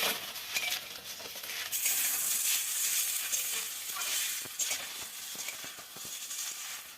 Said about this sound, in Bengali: এবার এর মধ্যে দিয়ে দেব মূলো, শিম। একটু ভালো করে ভেজে নেব।